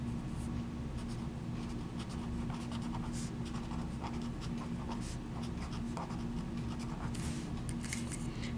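A Papermate Flare felt tip pen glides across smooth, silky Stalogy paper, giving a soft continuous scratching with quick strokes, close and quiet over a faint low hum.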